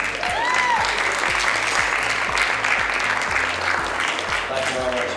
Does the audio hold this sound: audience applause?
yes